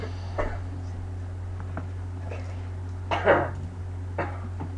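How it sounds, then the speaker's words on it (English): A few scattered coughs, the loudest in the middle, over a steady low electrical hum in an otherwise quiet room while playing WWE 12. "that's just me coughing"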